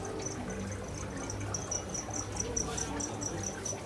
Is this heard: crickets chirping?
yes